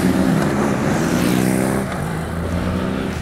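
A BMW R nineT flat-twin motorcycle engine runs loud and close, a steady low throaty drone that eases slightly partway through without pausing.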